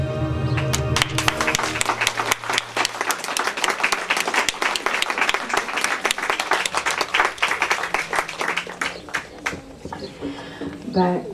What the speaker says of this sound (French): Merci Irène, merci Guillaume, merci pour vos applaudissements.